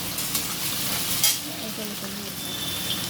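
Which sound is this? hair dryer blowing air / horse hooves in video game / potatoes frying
potatoes frying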